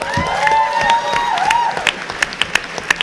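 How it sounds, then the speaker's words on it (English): Comic-Con panel audience at San Diego claps after a horror panel tribute, a short burst of applause that thins into scattered individual claps, with a tonal sound fading over the start. "a round of applause for Greg Nicotero"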